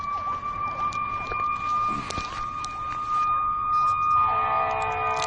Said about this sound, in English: Now that's a siren if I ever heard one.